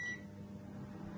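A microwave oven cooking an egg gives a steady low hum after a brief beep at the start, running alone and fairly quietly.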